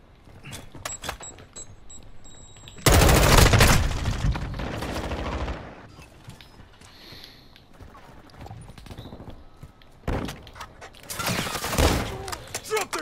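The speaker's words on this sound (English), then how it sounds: "Taking fire." Bursts of automatic gunfire in a multiplayer video game shooter, loud sustained volleys around the middle and again near the end, with quieter scattered shots and clatter between them.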